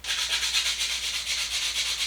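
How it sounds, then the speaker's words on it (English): Hand sanding with 220 grit sandpaper, steady rhythmic back-and-forth rubbing strokes, close and continuous with no talk. "Now I'm going to take some extra sandpaper and go up in grit to make it smoother"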